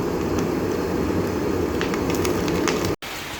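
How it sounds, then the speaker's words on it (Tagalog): Steady rain falls outdoors on a wet morning, a dense continuous hiss with faint bird chirps over it, cut by a brief dropout near the end. "umuulan no kailangan na naman natin suungin ang ulan na to"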